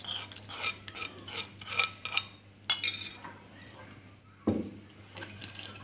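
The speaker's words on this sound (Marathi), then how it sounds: "आता ही फोडणी आपण यात ओतून घेऊया आणि हे छान एकत्र करून घेऊया" Flattened poha is mixed with a cooled tempering in a bowl, giving soft irregular clinks and scrapes of a spoon against the bowl. The sounds come close and moderately quiet, with pauses between them.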